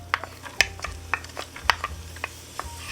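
Chopped onions tipped into melted butter in a pan make a string of sharp clicks and scrapes over a faint sizzle, several close knocks spaced unevenly through the moment.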